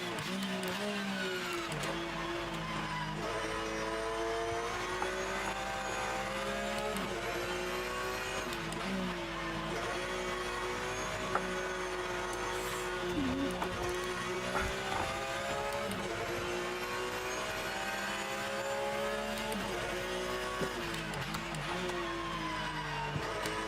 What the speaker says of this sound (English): there just is something about the sound of the car as well